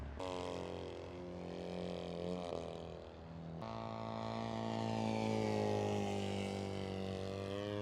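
An AJ Aircraft 103-inch Slick 540 radio-controlled aerobatic plane in flight, its engine a loud, steady droning whine that shifts pitch partway through and then holds a higher, sustained tone, with no talking.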